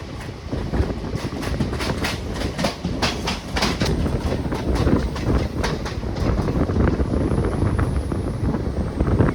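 Guruvayur-Madurai express train running at speed, heard from inside a general class coach as a loud continuous rumble with repeated clickety-clack beats from the rails and some wind buffeting, no voices.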